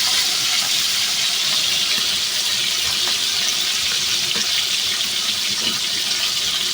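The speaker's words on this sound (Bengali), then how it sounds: "সব মাছ উল্টে নিয়ে আসছি এখন ভালো করে ভেজে নেবো" Hilsa fish frying in hot oil in a pan, a steady, dense sizzle that holds level throughout, close up with no talk.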